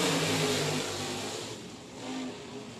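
Race cars at Hunt County Raceway accelerating on a green flag restart, engines droning and revving together in a steady blended roar at mid distance, rising slightly near the end, with no voices.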